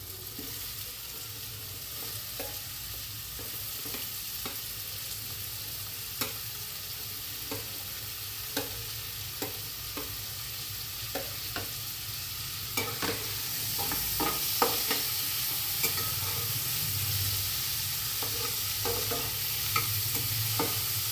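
Onion sizzles steadily in hot oil, a continuous frying hiss with scattered sharp clicks and scrapes from stirring, swelling slightly louder partway through.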